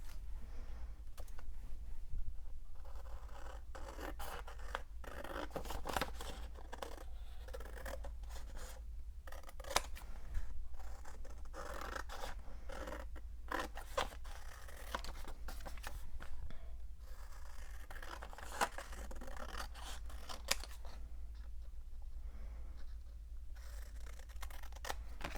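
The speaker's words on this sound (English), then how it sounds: "Scissors are getting sticky again." Repeated snips and crisp slicing of sticky scissors through paper, close up, in uneven bursts over a low steady hum.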